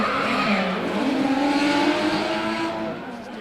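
Drift cars in a close chase run at ASB Baypark, Tauranga, one a V8 Supercar driver's borrowed car, skidding with loud sustained tire squeal and roaring engines, the screech wavering in pitch before fading slightly at the end.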